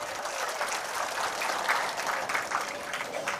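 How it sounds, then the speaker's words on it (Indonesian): Applause from a May Day labour rally crowd for union leader Evi Krisnawati, a moderate spread of clapping heard from a distance, steady for a few seconds. "boleh tepuk tangan untuk beliau"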